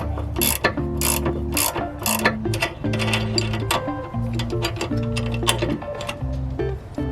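A 15mm wrench ratchets steadily while loosening the rear sway bar end links on a Mazda 3 MPS, giving close, rapid clicking that runs continuously without talk.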